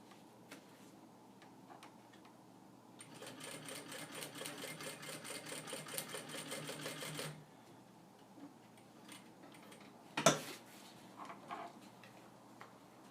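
A sewing machine stitches a backpack strap in a quick, even burst of rapid ticking lasting about four seconds, with faint clicks before and a sharp clunk afterward in a quiet room.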